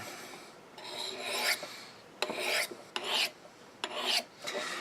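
A knife being sharpened on white Lansky 1000 grit ceramic rods with light pressure, giving about five close, crisp rasping strokes in an uneven rhythm with short pauses between them.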